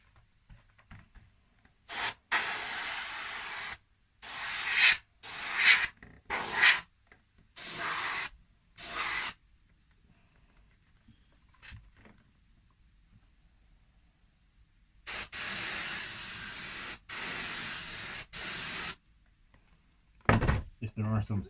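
An airbrush sprays paint freehand onto an RC car body in a series of sharp, hissing bursts of varying length, separated by near silence.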